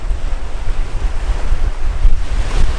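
Ocean surf breaking on a beach at sunset, a steady broadband roar with rolling swells and wind buffeting the microphone, loud and continuous with no voices.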